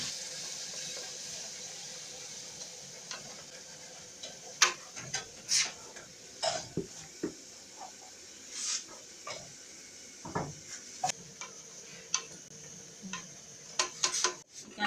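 Flour-coated peanuts (groundnuts) are stirred in a frying pan with a wooden turning stick, giving scattered soft scraping and tapping knocks over a steady background hiss, fairly quiet and with no talking.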